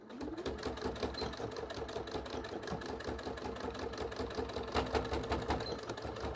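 A sewing machine back stitching over a seam on a small bag runs in a steady, fast mechanical chatter, close and fairly quiet, without pause.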